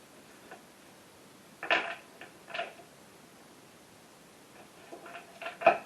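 Tarot cards riffled together in a ripple shuffle, giving a few short papery bursts of flicking and snapping card edges, faint and close, with quiet gaps between them and no talking.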